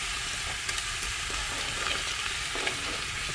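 Ingredients sear in hot butter in a pan, a steady bright sizzle with a few soft stirring clicks, close and continuous, with no voices.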